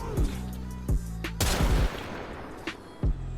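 Rubico Prime sniper rifle shots fire in the Warframe video game, several sharp booming cracks spaced irregularly with short echoing tails. They are loud and close, with no voices.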